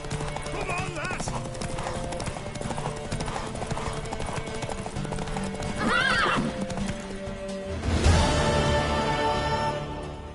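Rhythmic hoofbeats of a horse in the Witcher 3 video game run steadily under music and game sounds, with a whinny rising near the end.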